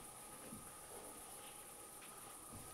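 Toads call in the background at night around a manor, a faint steady trilling chorus that fills the clip without any talk.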